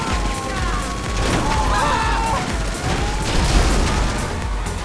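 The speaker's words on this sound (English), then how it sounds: "The machine gun is quite good. It blows up its target fairly quickly." Stromberg machine gun fire from GTA Online, a loud steady barrage of rapid shots and booming impacts as targets explode, with whining mechanical tones on top.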